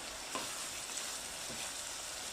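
Fried rice with spices sizzles in a pan, a steady hissing fry with a few faint scrapes as it is stirred, close and fairly quiet.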